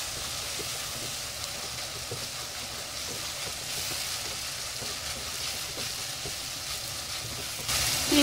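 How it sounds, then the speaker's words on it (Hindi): Keema and kachnar frying in a pan with salt, coriander powder, turmeric and red chili powder, giving a steady, dense sizzle that stays even throughout, with a slightly louder burst at the very end. "मसाला डालने के बाद इनको भूनें।"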